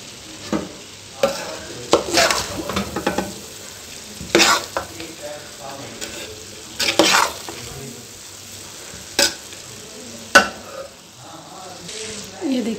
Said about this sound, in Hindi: अब हम इसको हिला के मिक्स करके आपको